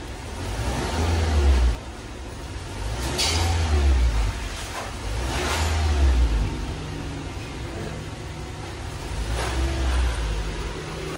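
A Toyota Fortuner with a misfiring engine, still shaking after new ignition coils, spark plugs and fuel injectors, revs in repeated pulls: deep, close engine rumble rising and falling about four times, each burst swelling then dropping back.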